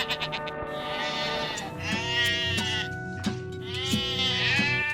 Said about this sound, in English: the only goats at Camp North End eat kudzu all day along this fence line on North Graham Street